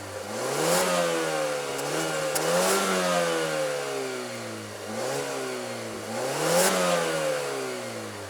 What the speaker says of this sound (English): Let's take a listen of that turbo engine and see how it sounds.